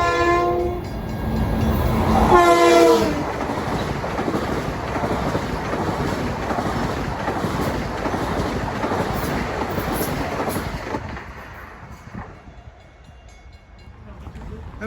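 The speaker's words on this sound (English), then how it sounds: "Train 1728 from Atlantic Terminal to Huntington. Another eastbound on 2." An eastbound commuter train passes the New Hyde Park Road crossing, opening with a loud horn blast, then a heavy, sustained roar and clatter of railcars close by that fades as it moves off.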